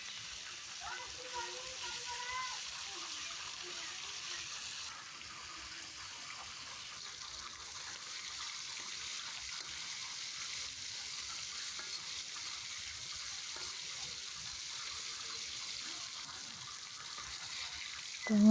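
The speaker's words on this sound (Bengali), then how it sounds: "তো আমার তেলটা গরম হয়ে গেছে, এখানে আমি সব মাছগুলো দিয়ে দিতেছি এক এক করে।" Fish pieces fry in hot oil, added one at a time, a faint steady sizzle with soft stirring scrapes throughout.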